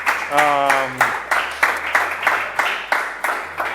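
A short burst of clapping from a small group, with separate rhythmic claps; someone speaks briefly at the start over it.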